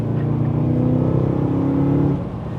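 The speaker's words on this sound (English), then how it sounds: "I love the sound of this car, especially with that exhaust on the back end of it." A BMW E92 M3 engine holding a steady, throaty drone with exhaust burble, loud and close, easing off slightly toward the end.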